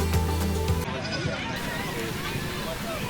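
Miniature goats bleat at an agricultural show during goat judging at the Red Hill Show on the Mornington Peninsula, with a loud bleat up front and fainter ones among crowd babble.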